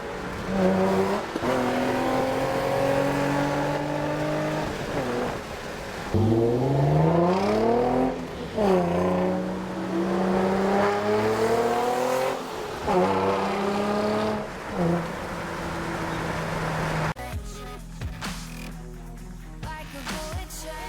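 Infiniti G35 with a VQ engine accelerating hard, loud and close, revs climbing through several gears with short dips at each shift, then settling into a lower hum.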